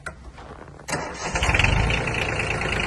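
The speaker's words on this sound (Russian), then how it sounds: "Запустим трактор." A Yanmar F145 Japanese mini tractor engine cranks briefly and catches, then settles into a steady rattling diesel idle close by, with no voices present.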